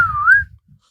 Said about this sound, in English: You just had me whistle.